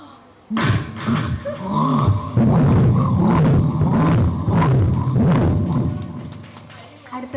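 A voice on stage at an arts festival imitates a wood-cutting machine with a loud, rough, buzzing drone that rises and pulses for several seconds after a brief quiet start.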